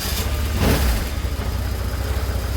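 A BMW R1150GS motorcycle engine idling after a throttle body sync, with a steady low rumble close by and a brief swell near the start before settling.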